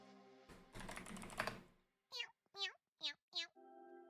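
A cat meows four times in quick succession, short rising calls spaced evenly, after a burst of clattering noise, with a soft electronic tone at the end.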